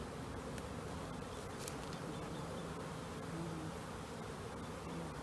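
Honeybees buzz in a dense, steady drone as a brood frame is shaken over the hive, the swarm sound continuous and close throughout, with no voices.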